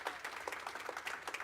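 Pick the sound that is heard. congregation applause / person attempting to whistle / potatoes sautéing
congregation applause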